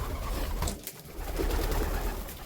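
White homing pigeons in a new loft give soft, low cooing that repeats through the clip over a rustling indoor background, with no voices.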